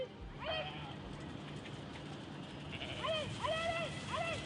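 Sheep bleating on a farm where construction is eating into pastureland, a few wavering calls early on and then a cluster of repeated bleats near the end, heard over a steady outdoor background.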